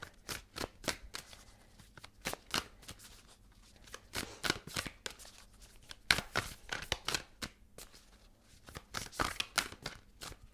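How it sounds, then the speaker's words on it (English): A deck of tarot cards is shuffled repeatedly, with bursts of quick riffling and soft slaps in close, irregular clusters. "let's shuffle and pull the cards."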